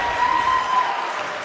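Crowd applause fills a basketball arena during a playoff final free throw, steady clapping and cheering from players on the bench and spectators across the whole moment, with a faint tone running underneath.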